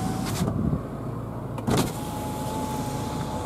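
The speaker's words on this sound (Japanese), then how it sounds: "それからパワーウィンドウ" The electric power window motor of a 2012 Renault Megane RS whirs steadily for several seconds, a close mechanical hum with two brief clunks near the start and middle.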